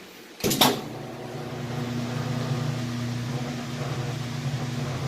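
A Whirlpool washing machine in its spin cycle, opening with a sharp clunk before a steady motor hum and whirr settles in and holds evenly, near and fairly loud.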